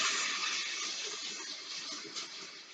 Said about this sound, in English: If you're not using the water, it should not be running.